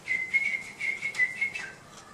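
A person whistles in imitation of a postman's whistle: a short, clear, high whistled tone wavers slightly and drops in pitch at the end, faint and alone for about two seconds.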